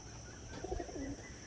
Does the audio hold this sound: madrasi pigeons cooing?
yes